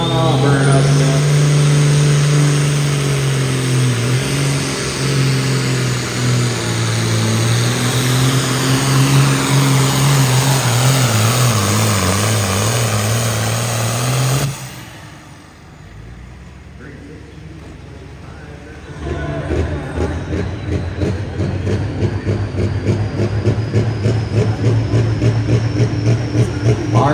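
Mini mow garden tractor roaring down the track at a county fair truck and tractor pull, loud sustained engine that drops away midway, then returns with rattling revs while an announcer talks over it.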